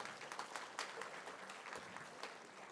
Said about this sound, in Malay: So kita beri tepukan juga kepada mereka.